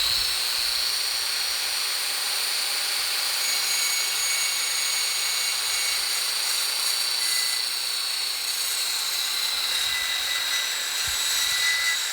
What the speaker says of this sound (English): Now we're gonna trim the edge so it's square. It could potentially make it worse because I'm just using a circular saw